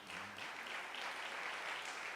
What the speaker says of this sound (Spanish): ¿Cuántos le dan un aplauso de agradecimiento al Señor?